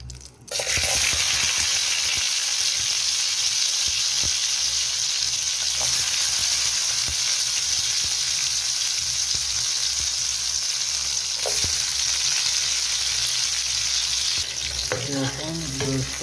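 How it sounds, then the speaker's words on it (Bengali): Dried lotte fish sizzles and spits in hot oil in a home kitchen, a steady close crackling frying hiss throughout with occasional stirring clinks and a brief voice near the end. "হালকা শুটকি ভেজে নেব।"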